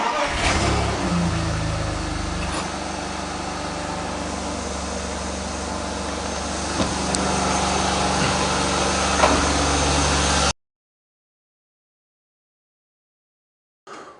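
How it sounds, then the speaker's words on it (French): A BMW engine with freshly replaced camshaft and crankshaft sensors and a new chain tensioner starts up and revs steadily, loud and close, for about ten seconds before cutting to silence. "Et je vais tester un petit démarrage."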